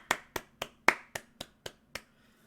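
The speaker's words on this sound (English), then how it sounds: "Let's clap it up. Give yourself a round of applause." Eight sharp hand claps in an even, slightly slowing rhythm, close and crisp, with the second-to-last few a little softer and silence after.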